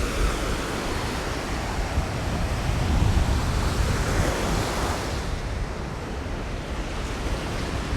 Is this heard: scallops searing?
no